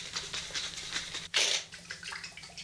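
RazoRock Don Marco aftershave splashes from the hands onto the face, a close wet slap that bursts loudly in the middle, flanked by softer patting and rubbing sounds.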